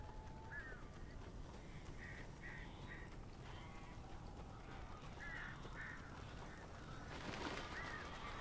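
Crows cawing in the Alan Wake video game, heard as repeated harsh calls in short bursts at a distance over a dense, noisy backdrop.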